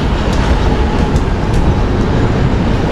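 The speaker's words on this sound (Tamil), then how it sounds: "ஆஹா இப்போதான் ஒரு ட்ரெயின் போச்சு" Panama City subway metro train rumbling past at close range, a steady, loud, broadband roar with faint clacking throughout, no talking.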